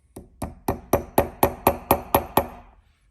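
A hammer taps roll pins into a steering wheel boss, nine evenly spaced sharp metallic knocks in a quick steady run, close and clear with nothing else around them.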